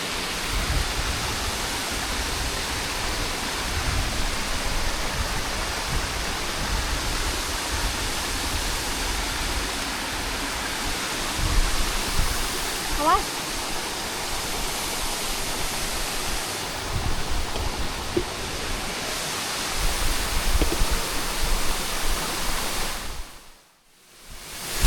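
Waterfall on Gunung Pundak, a steady full-band roar of falling water at close range, continuous and unbroken throughout with no voices, cutting off abruptly at the very end.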